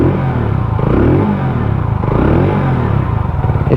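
A WK Scrambler 125cc motorcycle's single-cylinder engine revs steadily close by, a loud, buzzy, pulsing tone that rises and falls slightly, with no talk.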